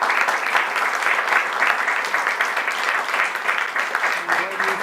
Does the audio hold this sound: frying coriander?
no